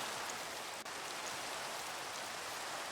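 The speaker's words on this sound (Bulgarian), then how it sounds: "О, не, най-мразя дъжда." Steady rain falls in the blocky survival world of Minecraft, a soft, even hiss of drops with no variation and no voices over it.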